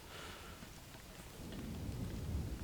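Steady rain with a low thunder rumble swelling toward the end, an ambient storm in the game Don't Starve, fairly faint and with no talking over it.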